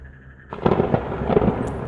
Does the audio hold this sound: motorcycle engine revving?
no